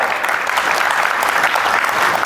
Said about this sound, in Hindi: आपका जोरदार तालियां, जोरदार